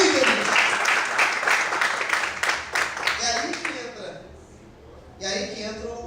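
Church congregation applauding, a dense sustained wash of clapping at a steady level that thins and fades toward the end before a brief voice cuts in.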